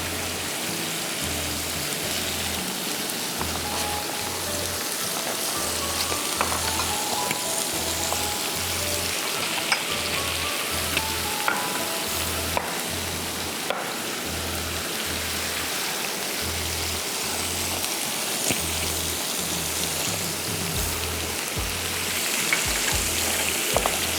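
Ginger garlic paste sautés in a pan for chicken sajji masala, a steady close sizzle and crackle running throughout with a faint pulsing low hum beneath, no talk.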